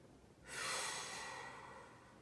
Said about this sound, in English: as he's taking a deep breath in